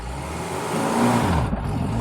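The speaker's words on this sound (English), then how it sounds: "All right, 0 to 60 in the Reliant Robin." A Reliant Robin pulls away in a 0 to 60 mph run, a mid-pitched engine note climbing steadily as it revs, heard from inside the car at moderate loudness.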